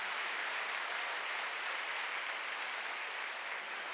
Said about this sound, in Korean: 박수로 하세요.